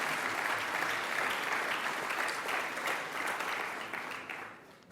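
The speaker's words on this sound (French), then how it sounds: "Oui, on peut l'applaudir." Audience at an education awards gala applauding a speaker, a broad steady clatter of many hands that holds and then thins toward the end, moderately distant.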